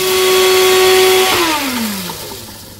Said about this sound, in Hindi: हमने ज़रा से फेनल सीड्स जो हैं वो पीस लेने हैं, half tea spoon cumin seeds के साथ